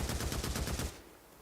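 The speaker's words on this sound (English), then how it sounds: "Freakers running and explosions and freakers falling over" Rapid machine-gun fire during a Days Gone horde fight, evenly spaced loud shots for most of a second before cutting off abruptly.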